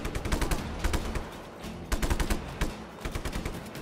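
Rapid automatic gunfire in the video game Just Cause 3, loud bursts of machine-gun shots in quick rattling sequences with brief gaps between volleys, dominating the scene with no talk over it.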